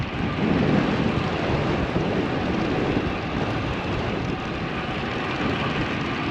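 Steady wind roars and buffets the microphone while traveling along Miller-Wilson Road near Kingwood, a loud continuous low rumble with no pauses.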